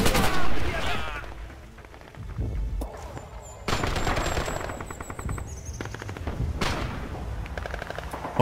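Machine gun fire in the World War II shooter Red Orchestra 2 at Stalingrad: loud rapid bursts rattle in several long strings with sharp gunshots and blasts between them, no talk heard.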